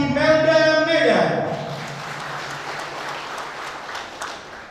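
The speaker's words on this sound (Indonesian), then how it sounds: "mari beri tepuk tangan yang meriah untuk acara Wisuda Universitas Imelda Medan" Large audience at a university graduation ceremony in Medan clapping in sustained applause; a voice trails off at the start, then broad, even clapping fills the hall for several seconds.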